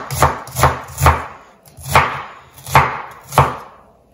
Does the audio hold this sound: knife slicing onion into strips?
yes